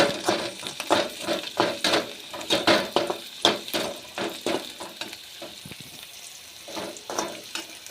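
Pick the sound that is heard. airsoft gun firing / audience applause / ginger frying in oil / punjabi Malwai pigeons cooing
ginger frying in oil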